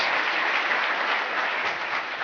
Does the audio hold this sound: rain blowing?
no